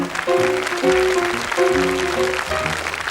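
A French television studio audience in 1982 applauds a young contestant on a children's talent show, steady dense clapping filling the room while a host speaks over it and music plays underneath.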